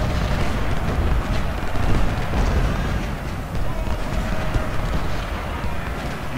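Civil War battle in the Ultimate General strategy game, heard as a dense, continuous roar of artillery booms and massed gunfire blending into a loud, rumbling wall of battle noise.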